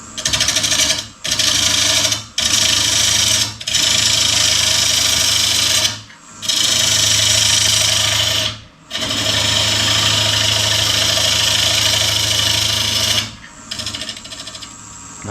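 Wood turns on a lathe for a cake stand, loud rasping and scraping as the tool cuts, in repeated bursts of a second to several seconds separated by short pauses, close and alone.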